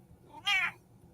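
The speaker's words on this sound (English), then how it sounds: "yes, that is my cat" A Russian blue cat gives one short, clear meow at close range, rising and falling in under half a second against a quiet room.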